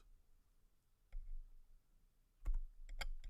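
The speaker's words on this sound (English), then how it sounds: "Why am I not typing this shit right?" Someone types on a computer keyboard, tapping out a few sparse, quiet clicks in short bursts, with a louder cluster of keystrokes near the end.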